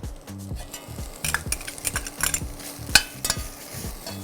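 Chopped onion and celery hit a hot pan for a bisque base, giving sizzling bursts mixed with stirring scrapes and clinks of utensils against cookware, steady and close with no talking.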